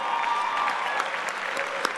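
Gala guests at a cancer-cures benefit dinner applaud, a steady, fairly loud patter of many hands filling the room throughout, with no voices over it.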